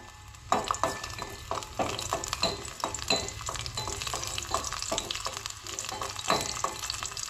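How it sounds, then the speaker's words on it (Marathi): Garlic tempering sizzles quietly in a pan while a spoon stirs it, giving a soft steady fry broken by regular scraping strokes every half second or so. "आमची लसूण जी आसा ती हलकीशी करपोवंक जाय, बरी फोडणी रेडी जावपाक जाय. सो मातशी मिक्स करून घेवया."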